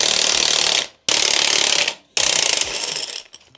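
A ratchet backs off coil spring compressors on a VW T5 van's suspension during a lift kit fitting, giving three bursts of rapid metallic clicking, each about a second long, loud and close with short pauses between.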